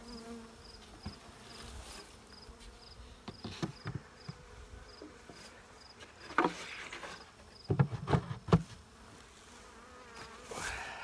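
Buckfast honey bees drone steadily around an open hive, a soft continuous buzz with individual bees passing close now and then, plus a few light knocks and taps.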